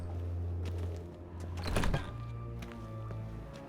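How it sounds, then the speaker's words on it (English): A locked door being unlocked and opened in The Witcher 3 video game, with a clear mechanical clunk and creak at the middle over a quiet, steady hum of game ambience, with no talking. "That's the first time ever I've been able to unlock a locked door."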